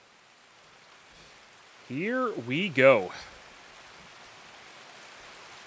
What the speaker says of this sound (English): Ooh, that's some heavy rain, I tell you what.